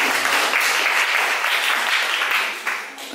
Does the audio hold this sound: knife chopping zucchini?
no